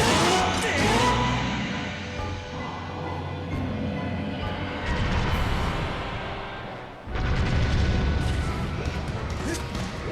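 Bombs explode during a boss fight in Skyward Sword HD: heavy booming crashes in two loud waves, with rumbling debris and game effects filling the gaps.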